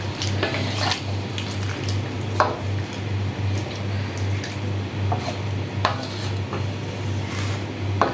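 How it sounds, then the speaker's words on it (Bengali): Water poured into a pan of chicken and teasel gourd curry, a steady low simmering hum with occasional clinks of a spoon against the pot and light bubbling; no talk. "দেখেন আমার তরকারি কষানো হয়ে গেছে, আমি এখন জল দিয়ে দিছি।"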